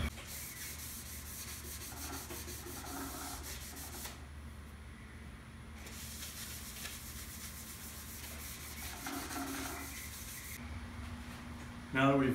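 A cloth dampened with mineral spirits is rubbed across a cast iron surface, giving a close, continuous scrubbing and rubbing sound with back-and-forth strokes and brief pauses.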